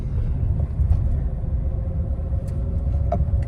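A car moving in second gear gives a steady low engine rumble and road noise from inside the cabin, loud and continuous with a few faint clicks, without talking.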